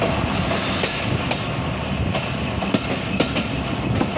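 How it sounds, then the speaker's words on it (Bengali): Barendra Express passenger train pulling out of Hili railway station near the Bangladesh border, a steady close rumble of rolling wagons with faint clickety-clack and sharp rail clicks throughout. "যাত্রা বিরতির শেষে আমাদের ট্রেন ছেড়ে গেল হিলি রেলওয়ে স্টেশন"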